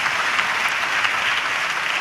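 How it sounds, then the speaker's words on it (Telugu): A church congregation at a Good Friday service in Hyderabad claps together in steady, dense applause that fills the room evenly from start to finish, with no voices standing out. "చప్పట్లు కొడుతూ ప్రభుకి స్తోత్రాలు చెప్దాం"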